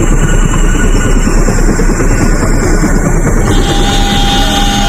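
A large military helicopter drones loud and steady, a heavy rotor and engine roar that fills the whole span with no break.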